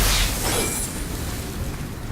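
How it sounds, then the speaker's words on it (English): A burst explosion from a Blades of Chaos upgrade in the God of War video game booms loudly up front, then fades into a lingering rumbling noise. "one of the upgrades to the blades was actually leaving an explosion like that"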